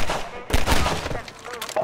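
Enemy gunfire in the video game Half-Life 2: several sharp, rapid bursts of shots crack in quick succession, with a voice briefly audible amid the shooting.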